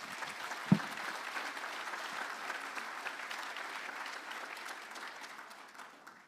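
Steady applause from an audience at the Galway City Mayor's Awards 2023 ceremony, opening with one sharp thump and then a sustained, even wash of clapping that slowly tapers.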